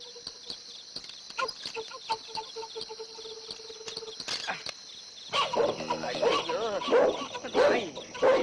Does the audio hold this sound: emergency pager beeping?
no